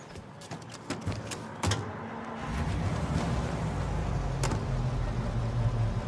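A car starting up and being driven in Mafia Definitive Edition: a few door and mechanical clicks, then a steady low engine rumble that builds and holds.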